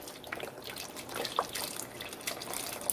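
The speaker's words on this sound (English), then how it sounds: "I'm going to add this beef broth." Beef broth pours from a 32-ounce container into a stew pot for Brunswick stew, giving a quiet, continuous liquid trickle and splashing with a few faint drips.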